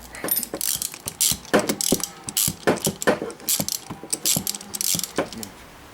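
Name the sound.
ratchet with long socket removing Gilera GP 800 spark plugs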